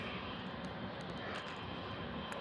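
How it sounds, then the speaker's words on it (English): A Korean Air cargo Boeing 747 takes off at JFK Airport with a steady, broad, distant jet roar that holds loud and even throughout, with no talking. "Oh, plane took off. That's Korean Air. Oh, Korean Air cargo."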